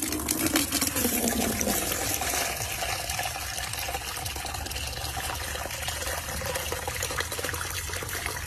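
Water runs steadily on a backyard farm in the countryside, a continuous close splashing flow that holds fairly even throughout.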